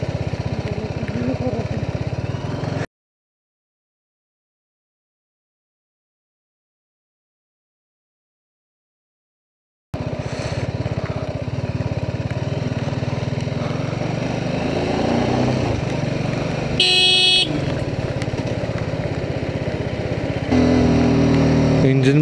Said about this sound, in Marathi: इंजिन ब्रेकिंगच यूज करतोय मी आता